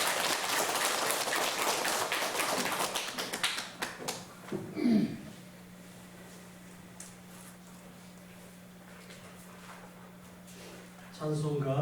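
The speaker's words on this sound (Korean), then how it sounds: "이 작은 삶을 받아주시고 크게 축복해 주신 하나님께 감사의 박수를 올려드리겠습니다." A church congregation at a Wednesday prayer meeting bursts into brief applause, loud and dense at first, then fading to scattered claps and leaving a quiet hum with faint sounds.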